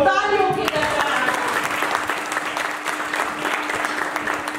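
An audience at an ISKCON summer camp event gives steady, dense applause throughout, fairly close. A voice is heard at the very start.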